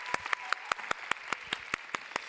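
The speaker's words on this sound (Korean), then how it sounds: "박수로 맞이하겠습니다" A church young adults' congregation claps in welcome for ministry leaders and staff at a Sunday service, a steady run of sharp, evenly spaced claps rising above a softer wash of applause.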